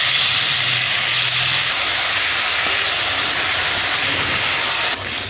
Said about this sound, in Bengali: মাছ ভাজার জন্য কড়াইতে তেল দিয়ে দেবো